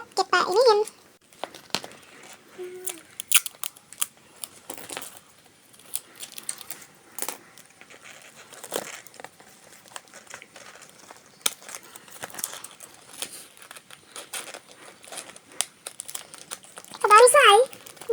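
Plastic shopping bags crinkle and rustle in busy bursts while a homemade squishy is stuffed with them, with brief voices, apparently children, at the start and end.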